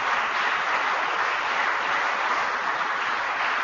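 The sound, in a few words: applause for agriculture groups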